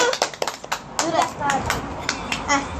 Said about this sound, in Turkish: Herkes alkışlasın hadi.